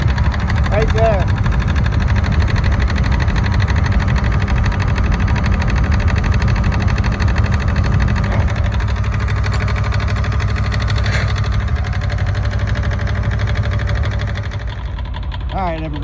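A Yanmar YM146 garden tractor's small diesel engine idling, a loud steady knocking chug that runs evenly for about fifteen seconds before easing slightly, close by, with a person talking over it.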